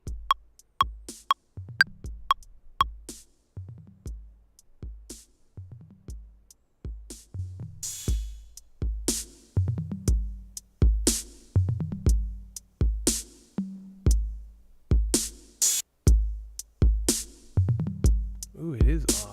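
A looped music beat plays back in a DAW, with punchy kick and snare hits in a steady repeating pattern and sparse high percussive clicks, clear and close with no talking over it.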